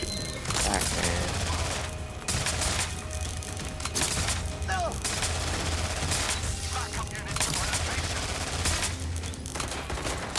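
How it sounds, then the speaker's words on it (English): Sustained gunfire in the video game Watch Dogs: Legion, with clattering bursts and sharp cracks repeating loudly over a busy background, broken by short pauses. "Shoot back, man."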